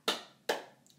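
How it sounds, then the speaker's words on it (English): Two sharp hand claps, close and fairly soft, about half a second apart, each ringing off briefly in a quiet room with no voice over them. "A clap is this."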